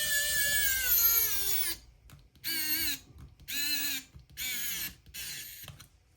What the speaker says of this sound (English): Okay, let's try to screw it in.